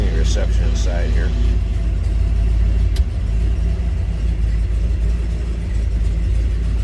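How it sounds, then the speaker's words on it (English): A 1969 Chevrolet Chevelle SS 396 with a mild, non-aggressive exhaust idles steadily with a low, throaty rumble, a continuous deep drone close by, with a brief tonal sound near the start. "Nice sounding car. No crazy over the top exhaust, anything like that."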